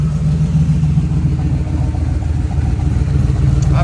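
A 1971 Ford Bronco with headers and a custom Magnaflow muffler exhaust idles close by, its deep, steady burble unbroken and loud throughout, swelling slightly near the end as if nudged toward a rev.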